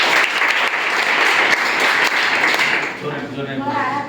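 Schoolchildren applaud a quiz contestant, a loud, dense burst of clapping that fades out near the end as a voice begins to speak.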